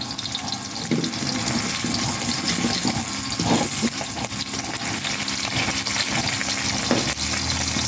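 Marinated milkfish (bangus) frying in hot oil makes a loud, continuous close sizzle and crackle, with occasional soft bumps as the fish is handled.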